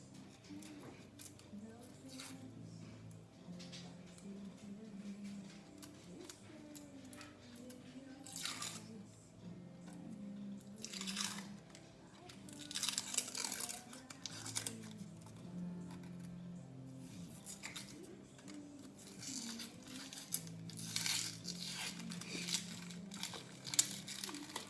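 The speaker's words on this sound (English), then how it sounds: "I'm just going to cut the end off and take off the" Quiet kitchen handling of a red onion being trimmed and peeled, with scattered papery crinkles and crackles of skin coming away in short bursts, soft and close, under faint background murmur.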